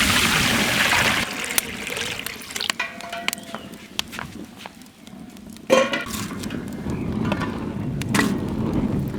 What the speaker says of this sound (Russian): Долью водички.